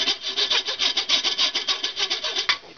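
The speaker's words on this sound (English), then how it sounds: "I've got a real real coarse file here that I just file her down" A very coarse file rasps back and forth across an ironwood piston clamped in vise grips, a loud, steady run of quick rhythmic strokes with no talk.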